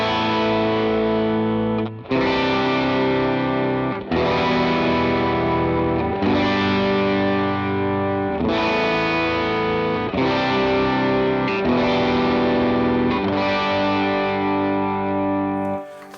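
An electric guitar played through an Axe FX 3 with Austin Buddy cabinet impulses rings out in distorted, sustained chords, changing roughly every two seconds in a loud, continuous, saturated tone with no voices.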